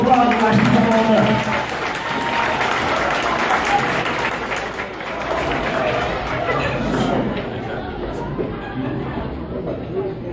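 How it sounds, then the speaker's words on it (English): A comedy club audience bursts into loud applause and cheering, dense clapping that gradually thins and fades toward the end, with chatter and voices mixed through the crowd noise. "Y'all give them a round of applause"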